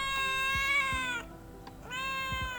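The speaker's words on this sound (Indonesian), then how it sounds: "Jadi ya sekarang di luar, dan ini kucing kecil." A small cat meows twice outdoors, close and clear, with a short pause between the two drawn-out cries.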